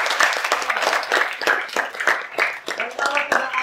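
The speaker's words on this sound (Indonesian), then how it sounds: "Juga tepuk tangan dulu untuk kita dong." Lively clapping from an audience at a school fiction talk show, close and fairly loud, with uneven bursts of claps and cheers that rise and dip, and voices mixed in.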